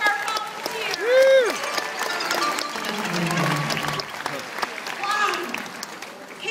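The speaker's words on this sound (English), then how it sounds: "How about a nice round of applause for our volunteers?" Steady clapping from an audience at a sea lion show under cheering and excited voices, with a whoop rising above the crowd.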